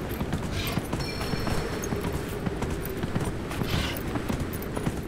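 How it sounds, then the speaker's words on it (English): Horse hooves walking in the video game Dragon Age: Inquisition, a steady clip-clop of many close footfalls running through the whole stretch without talk. "You're tricking me into walking my horse because you know I'd be neglecting them."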